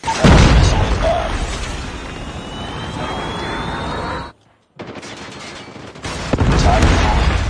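Gunfire and heavy combat blasts from Warzone Mobile, a Predator missile strike among them, with a loud burst at the start, a sudden brief dropout near the middle, then renewed booming battle noise.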